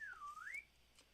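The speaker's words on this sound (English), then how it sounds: "And then I've got my slide whistle" A toy slide whistle gives one short gliding tone, dropping in pitch, dipping low, then rising again before cutting off, played close and fairly quiet with no speech.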